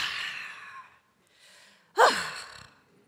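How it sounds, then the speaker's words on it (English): A person breathes audibly during a breathing exercise: a long breathy exhale, a pause, a softer breath, then a sudden loud, forceful exhale that tapers off. "Ooh, loud exhale."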